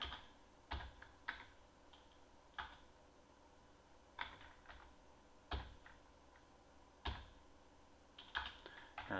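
Quiet typing on a computer keyboard during a C programming session, with scattered clusters of key clicks and short bursts separated by pauses, close and fairly soft, with no talking.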